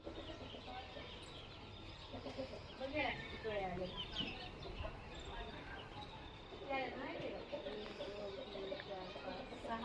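Chickens cluck and call at a poultry shed in the morning, a busy scatter of fowl sounds with rooster-like calls, heard at moderate distance under a faint outdoor background.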